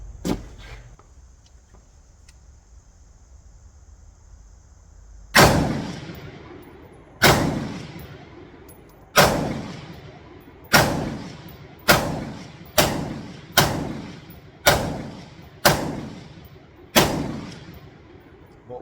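A CMMG BR4 rifle firing outdoors, ten sharp loud shots with echoing tails after a quiet lead-in, coming at first a couple of seconds apart and then in quicker succession.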